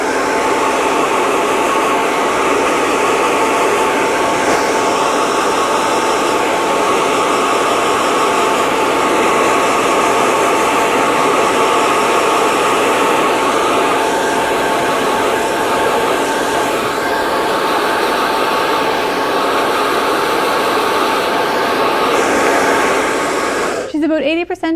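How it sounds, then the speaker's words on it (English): A hair dryer blows loud and close as it dries hair for a salon blowout, a constant steady roar that holds for the whole stretch with no break, and a brief voice comes in right at the end. "You want to make sure that your blower is coming down or off to the side on a diagonal."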